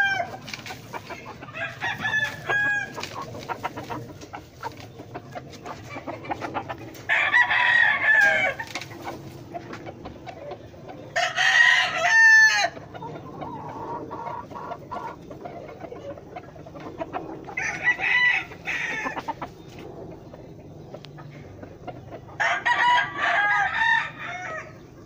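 Roosters crow in loud bursts at intervals, with hens clucking steadily underneath throughout, close by and busy like a farmyard, at a cockfighting pen with Peruvian gamefowl.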